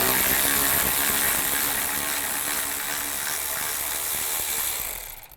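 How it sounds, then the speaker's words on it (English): A ratchet with a 10mm socket backing out bolts on a 2005-15 Nissan Xterra during a tensioner pulley replacement, a rapid continuous clicking close by that stops abruptly at the end. "Take these 2 bolts out right here, the 10mm. Use a 10mm socket."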